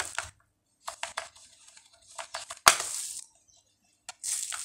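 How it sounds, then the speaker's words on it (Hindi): Computer keyboard keys are pressed while pasting text into a WordPress post, Enter and then Ctrl+V: scattered close clicks in short clusters with one sharp louder hit and brief gaps of silence. "नीचे इंटर करके दोबारा Ctrl+V प्रेस करके पेस्ट कर दिया"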